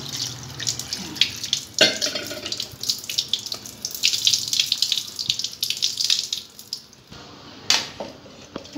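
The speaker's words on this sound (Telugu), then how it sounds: "తొందరగా అవ్వాలంటే ఇలా వాటర్ పోసేసుకోవాలి, కూల్ వాటర్." Cool tap water pouring into a vessel, a close, gushing stream with splashes and a few louder surges, briefly pausing before a final burst.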